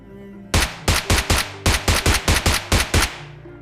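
SMG bursts in a battle royale video game: about a dozen sharp, rapid shots fired in quick clusters, loud and close, with no talking.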